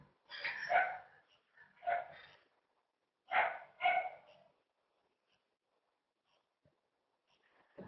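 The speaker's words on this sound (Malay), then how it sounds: "Maaf, anjing saya berbunyi." A dog barks about four times, sharp and fairly close, in two pairs of barks with a short gap between them, then falls quiet except for a faint final yip.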